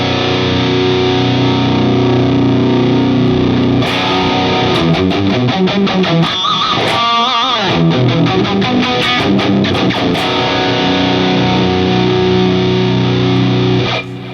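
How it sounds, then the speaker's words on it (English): A distorted electric guitar played through an amp plugin with speaker distortion rings out loud and sustained, with held chords and a brief run of quick picked notes in the middle. "we can actually put speaker distortion on, which is a really cool way of kind of rounding out some of the top end frequencies"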